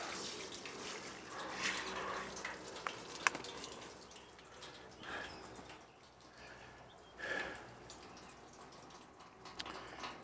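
Freshly harvested garden peppers, zucchini and beets given a brief rinse under running water, a soft, faint splashing and dribbling with a few drips and small clatters, rising and falling in short spells.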